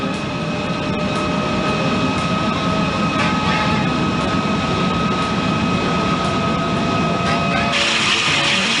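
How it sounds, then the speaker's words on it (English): A gas fountain fire roars in a steady, loud, continuous rush. The sound holds an even roar throughout and grows brighter and harsher near the end. "And here a gas fountain is burning."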